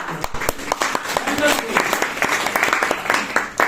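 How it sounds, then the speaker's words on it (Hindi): An audience at a networking business talk gives a round of applause. Separate, distinct claps build into a moderate burst, with voices heard over them. "एक बार ताली आप लोगों के लिए"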